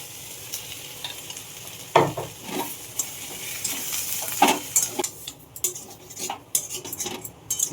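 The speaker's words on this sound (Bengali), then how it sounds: "এবার আমি ডাল বাটাটা দিয়ে দেবো।" Ground lentil paste with asafoetida and chilli powder fries in a pan, with a steady sizzle and hiss under the close scrape and clink of a utensil stirring against the metal.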